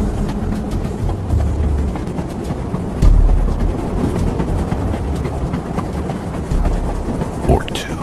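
A train rolls along its rails with a steady rumbling roar and faint clacks, a heavy continuous drone at moderate loudness with a few louder thumps along the way.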